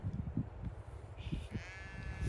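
A ewe on a Yorkshire Dales hill farm bleats with a wavering, nasal call toward the end, over low rumbling noise and outdoor movement; the bleat sounds moderately near.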